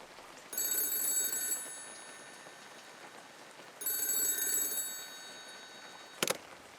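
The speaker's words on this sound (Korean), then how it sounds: "그리고 그날 밤 역시나 비슷한 시간대에 똑같이 전화가 울렸답니다." An old-style telephone rings twice in sustained bells over faint background hiss, each ring lasting about a second with a pause between, followed by a brief sharp clatter near the end.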